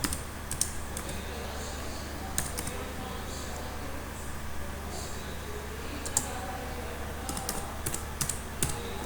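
Computer keyboard typing at a desk, with soft irregular key clicks in scattered bursts over a steady low background hum, close and fairly quiet, with no speech.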